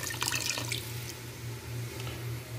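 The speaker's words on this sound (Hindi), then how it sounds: "मुझे जितना चाहिए मैं उतना पानी ऐड कर रहा हूँ।" Water being poured into fried mutton in a pot for shorba, a soft continuous trickle and splash heard close up under a low steady hum.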